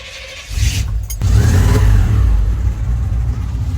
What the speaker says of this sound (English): I brought the tow truck